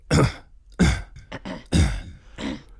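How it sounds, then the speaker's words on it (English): Someone clears their throat several times in a row, rough raspy bursts separated by short pauses, close to the microphone. "If you think about how you clear your throat"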